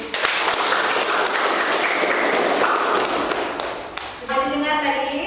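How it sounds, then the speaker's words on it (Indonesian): A classroom group claps after a group presentation: a burst of close, lively clapping with a few thumps and taps fades after about four seconds, and a voice begins speaking near the end. "Tepuk tangan dulu untuk."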